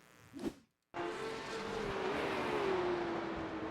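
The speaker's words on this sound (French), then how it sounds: "la voiture sautée sur le vibreur" Porsche Cup race car at the Zandvoort circuit, a brief thump and rattle then a short gap before a loud sustained engine drone with a steady whining tone, close and continuous.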